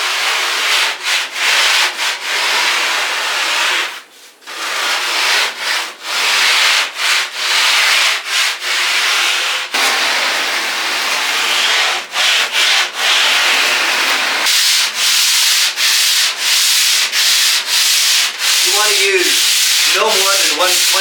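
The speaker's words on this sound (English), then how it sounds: "And you roll that over with pretty fine sandpaper, like 120 to 150, 180 even." Cork surfboard rails being sanded by hand with fine sandpaper, around 120 to 180 grit, give a steady, close, raspy rubbing in long strokes. Short pauses break up the strokes and no one speaks.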